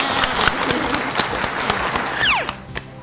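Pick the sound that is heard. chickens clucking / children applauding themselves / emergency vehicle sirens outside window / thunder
children applauding themselves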